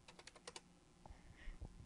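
Typing on a computer keyboard, a quick run of close, crisp key clicks followed by a few scattered separate taps, with no talk.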